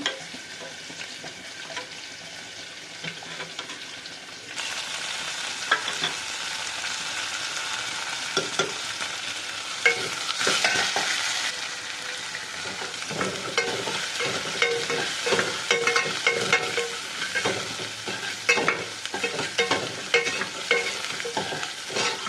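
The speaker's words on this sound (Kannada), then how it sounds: "ಇವು ಸ್ವಲ್ಪ ಫ್ರೈ ಆಗ್ತಾ ಇರಲಿ ಈಗ ಇದನ್ನು ಸ್ವಲ್ಪ ಸ್ಮ್ಯಾಶ್ ಮಾಡ್ಕೊಳ್ಳೋಣ" Ingredients for idli sambar fry and get mashed in a pan, giving steady sizzling with scraping, stirring and clattering of a utensil against the pan, close and continuous throughout.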